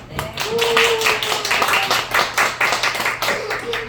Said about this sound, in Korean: 우리 다 같이 박수 한번 칠까요?